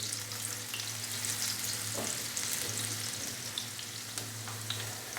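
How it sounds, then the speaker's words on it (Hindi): Chopped onion frying in a pan for an egg tomato gravy, a steady close sizzle with occasional stirring scrapes, no voices. "प्याज को हम हल्का सा फ्राई करेंगे 2 से 3 मिनट के लिए, ताकि ये प्याज जो है वो थोड़ा सा नरम हो जाए"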